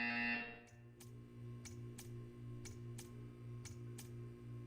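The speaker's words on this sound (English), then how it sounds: "You will hear a buzzer." In the Portal 2 video game, a faint buzzer or ticking pulse repeats at a steady rhythm about every half second, low in level, over a constant electronic hum after a brief opening tone.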